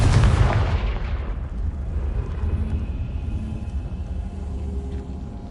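A Confringo fire blast spell from Hogwarts Legacy opens with a loud, bright burst, then trails into a long, low rumbling roar that stays fairly steady for several seconds, with no talking.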